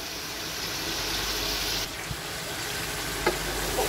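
Paya trotters fry in a spiced masala, giving a steady, even sizzle and crackle throughout with a couple of faint clinks partway through.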